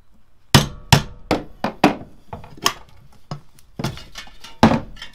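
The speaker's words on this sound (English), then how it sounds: "I'm literally just using the chisel." Sharp metallic hammer strikes drive a chisel into a VW T5 van, about a dozen irregular close blows with short gaps between them.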